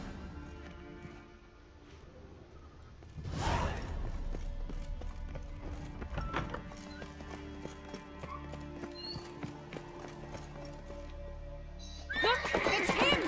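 A horse in The Witcher 3 whinnies loudly over clip-clopping hooves, with a second sharp neigh near the end amid game ambience and background music.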